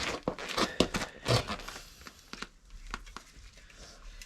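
Metal cutting on a Vauxhall Cavalier Mk3 body panel during repair, heard as a series of sharp tearing, crinkling snips and rasps that come in bursts, louder early and then thinning into scattered quieter cuts.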